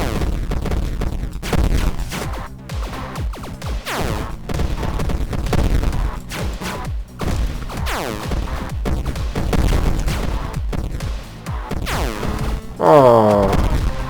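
Explosions in the Battle Ram video game, a dense stream of loud blasts and bangs with rapid gunfire-like bursts throughout and a ringing burst near the end, with no talking.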